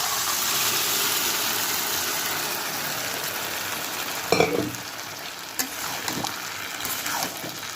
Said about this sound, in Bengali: এখন এই যে ডালটা ঢেলে দেবো